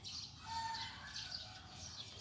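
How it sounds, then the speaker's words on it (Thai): Small birds chirp and tweet in a quick, scattered chorus at sunrise, with roosters somewhere in the surroundings, faint and fairly distant throughout. "มีทั้งเสียงไก่เจ้าเสียงนกเจ้า"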